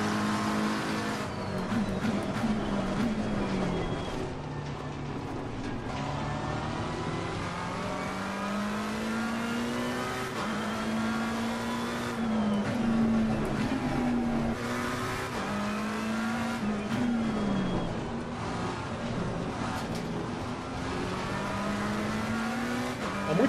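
Race car in the Assetto Corsa Competizione video game, engine revving and pitching up and down through gear changes with occasional tire squeal, continuous and steady without talk.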